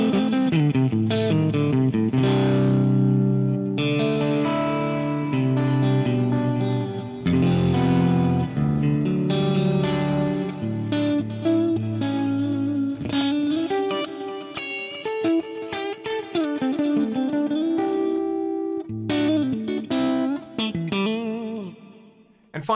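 Sustained electric guitar chords and melodic lines through a Fractal unit's 30% mixed quad parallel delay wash together, repeats smearing into a big ambient tail throughout.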